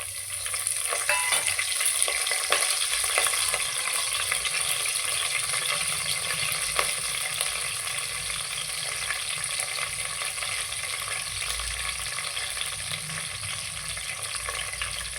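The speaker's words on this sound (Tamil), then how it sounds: "நல்லா பொரிஞ்சிருச்சு இப்போ நம்ம கருவேப்பிலை போட்டுக்கலாம்" Curry leaves and spices splutter in hot oil for soya biryani, giving a continuous, close crackling sizzle with scattered sharp pops over about fifteen seconds. No voice is heard.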